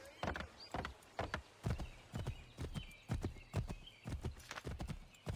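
Rhythmic hoofbeats clip-clop at a steady canter, fairly close and distinct, with a brief neigh mixed in, from a horse ridden in the video game Assassin's Creed III.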